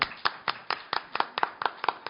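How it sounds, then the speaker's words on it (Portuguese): Welcoming applause for a speaker at a literary academy event, heard as a small group clapping in a steady, fairly even rhythm of about four claps per second, close and moderate in level. "nosso querido Luiz Gifone, a quem eu já peço aplausos de boas-vindas"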